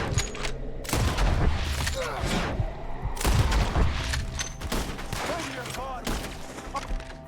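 Gunshots and crashing impacts in a chaotic firefight from Red Dead Redemption 2, several loud cracks spaced irregularly with echoing tails and clutter between them, a voice speaking over parts of it.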